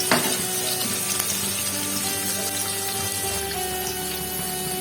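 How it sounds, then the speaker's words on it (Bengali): Paneer pieces shallow-frying in oil in a pan on a low gas flame, giving a steady close sizzle and crackle throughout with no talking. "এবার পনিরটা আমি হালকা করে ভেজে তুলে নেব।"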